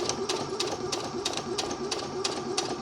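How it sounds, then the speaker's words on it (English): A sewing machine stitches along a fabric piece for a scalloped-waist skirt, a steady mid-pitched whir broken by regular clicking pulses about every third of a second, close up and heard alone. "stitch to the end of your fabric piece and backstitch"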